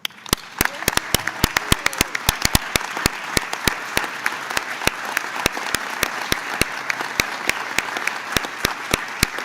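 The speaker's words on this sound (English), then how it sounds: "If you stand, we'll give you another round of applause." Audience applause at a congressional event for a cancer early-detection bill: sparse, distinct claps from a small group, individual hand strikes standing out in an irregular but steady rhythm throughout.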